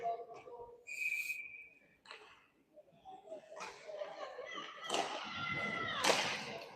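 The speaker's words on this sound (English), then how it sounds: "Whistle's blown." At an 18U youth ice hockey game, a referee's whistle gives one short, shrill blast, followed by rising rink noise: clatter, thuds and crowd sound.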